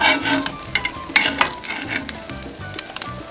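A quesabirria taco fries in a pan with a steady, close hiss of sizzling oil, broken by a few light scraping and tapping sounds from the cooking.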